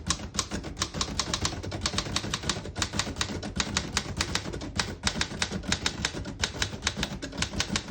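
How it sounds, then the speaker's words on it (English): A sentence typed on a Remington Model 5 vintage portable typewriter: rapid, steady key strikes clack loudly and close, with brief pauses between words and no talking. "I'll type a sentence on the next line."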